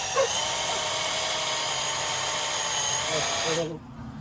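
A power drill fitted with a masonry bit bores during a DIY MRCOOL install, a loud continuous high whine that stops abruptly near the end.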